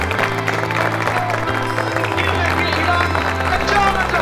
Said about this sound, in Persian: ایستاده آقای خیابانی رو تشویق کنیم